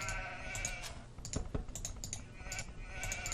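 Sheep bleating in the video game Age of Empires II, a couple of short bleats close in the mix amid soft game ambience and quick clicking, with no talking.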